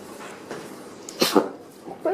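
A small animal, apparently a dog, sneezes twice in quick succession, with sharp close bursts near the middle of a short, otherwise quiet moment and a faint snuffle just after.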